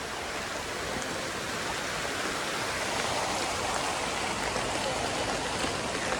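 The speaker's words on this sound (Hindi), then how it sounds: "जो ऊपर से पानी आ रहा है" Steady broadband rush of rainwater pouring down a hillside near Kullu during heavy rain beside the Manali–Chandigarh highway, a continuous close stream-like roar with no breaks.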